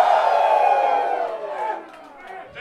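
A club crowd at the Media Club in Vancouver lets out a loud, sustained cheer and whoop that swells at once and then tapers off over a couple of seconds.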